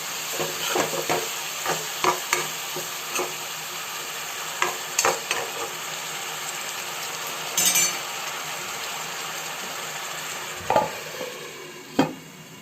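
Spinach with salt and turmeric is stirred in a pan over a quiet, steady sizzle, with repeated scrapes and clinks of a utensil against the metal spaced through the clip.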